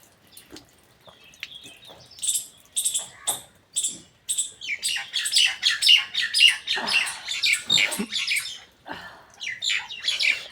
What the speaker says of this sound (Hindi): चिड़ैया आई रही देखो बेचारी सब परेशान है जाड़े के मारे